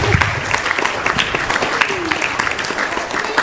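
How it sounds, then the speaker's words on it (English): A temple gathering at ISKCON Phoenix gives a warm round of applause for sponsors, a sustained wash of many hands clapping at moderate distance with scattered voices underneath. "let's give a round of applause"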